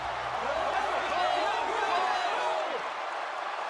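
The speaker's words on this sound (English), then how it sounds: "Crowd still yesing, firmly behind Daniel Bryan." A video game arena crowd chants yes for Daniel Bryan in WWE 2K16, a steady loud roar of many voices with rhythmic rising chant swells throughout.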